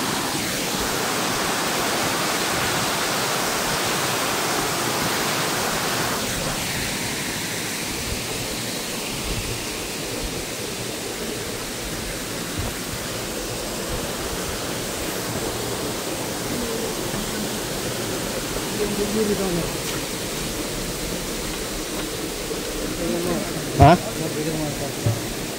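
Sundarijal waterfall near Kathmandu roars as a steady, broad wash of falling water, constant and close throughout, with faint voices beneath it.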